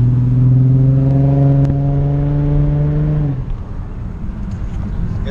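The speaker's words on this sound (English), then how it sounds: "I don't know if you guys can hear my exhaust now, my headers, but here's a little sneak peek." Car exhaust fitted with headers drones in a steady low hum with strong vibration at idle or cruise, then drops off sharply partway through; no talking.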